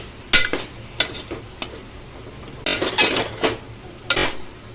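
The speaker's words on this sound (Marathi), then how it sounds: "त्याच्यामध्ये आपण बटाटा टाकू बटाटे पण आपण तेलात चांगले फ्राय करूया" Potatoes frying in oil with green masala in a pan, with sharp spoon scrapes and knocks against the metal at irregular intervals over a low, steady background sizzle.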